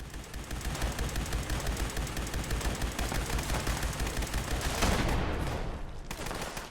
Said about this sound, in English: See, all the mobs are exploding.